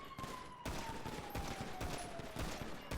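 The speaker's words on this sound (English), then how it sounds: "Yeah, there's cops shooting us." Police gunfire in a GTA V NoPixel roleplay shootout, a dense fusillade of rapid shots cracking continuously for about three seconds at close range with no talk over it.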